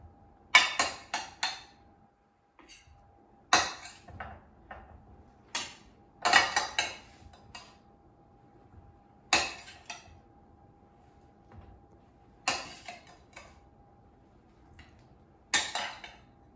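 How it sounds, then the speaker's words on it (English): Several sharp clinks and clatters of utensils against a plate as microwaved baby potatoes are placed on it, in irregular bursts with quiet gaps between, close by and without speech. "Just put them on a plate."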